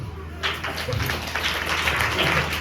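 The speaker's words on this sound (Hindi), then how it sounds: "1 घंटे वाले के लिए ताली बजाओ" A large crowd at a religious gathering breaks into applause after a short lull, a broad steady roar of clapping swelling up and holding to the end.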